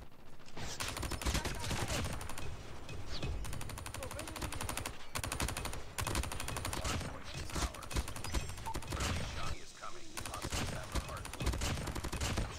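Rapid video-game gunfire from a Gold Dingo fired from the hip, dense bursts of shots running almost continuously and loud, with brief pauses between volleys.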